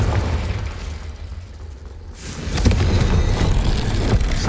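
Confringo blasting spell in the Hogwarts Legacy video game: a loud, close explosive boom that bursts out mid-clip and settles into rumbling debris and crackle, after a few seconds of low ambient rumble.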